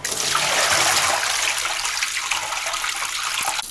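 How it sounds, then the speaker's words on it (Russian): Rinse water pours out of a bucket of salted fish being washed of leftover salt, a steady loud gushing splash that gradually tapers toward a trickle, close by. "И опять сливаем воду"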